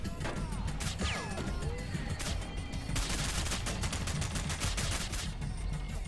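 Video game gunfire in a shooter, rapid bursts of shots with sharp impacts and a few whooshing sweeps, dense and loud throughout with no talk.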